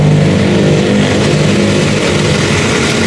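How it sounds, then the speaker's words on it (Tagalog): Toyota Corolla 2E engine with a faulty distributor revving hard, a loud, continuous, strained roar that holds steady for several seconds without talk. "Pag nire-rev mo, galit na yung makina, hindi pa rin nag-a-advance."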